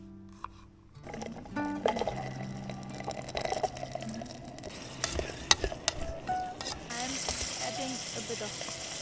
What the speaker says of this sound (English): For dinner, I'm making ramen noodles.